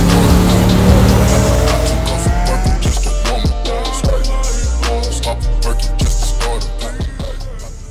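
Rally sports cars pull away on the road during a road trip, engines revving hard and repeatedly shifting up through the gears with tire squeal, loud and close, roaring steadily throughout.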